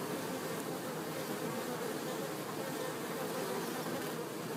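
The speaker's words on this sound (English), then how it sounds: "Hear the sound of a drone buzzing around." A steady, continuous buzz of a male honeybee drone hums close by at a hive, dense and unbroken, droning around without pause.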